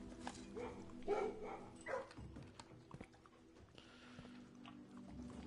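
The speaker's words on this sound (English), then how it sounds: "Doggy! Doggy. What a doggy." A dog in the kennel room of the video game Blue Prince gives a few soft, distant barks and woofs over quiet ambient game sounds, with faint wet squishing noises between them.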